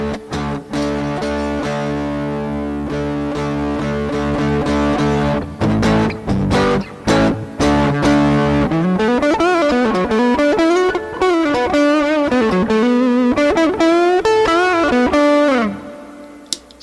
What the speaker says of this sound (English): A little bit of edge distortion here.